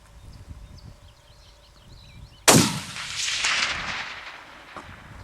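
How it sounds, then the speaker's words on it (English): A single sharp gunshot cracks out during a wild hog hunt in Pennsylvania woods, followed by a long rolling echo that fades over a couple of seconds, with faint bird chirps before it. "I'm gonna shoot."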